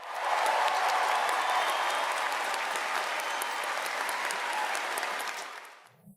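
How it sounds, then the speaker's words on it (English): A hearty round of applause at a veterinary school commencement ceremony, dense and steady for about five seconds before fading out. "Let us join in tribute with a hearty self-round of applause for the world's newest veterinarian."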